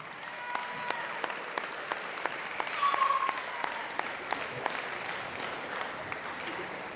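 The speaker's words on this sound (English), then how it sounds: "Give them one more round of applause here." A crowd claps steadily in a large room at a high school athletic awards ceremony, with some louder individual claps popping out and a brief whoop partway through.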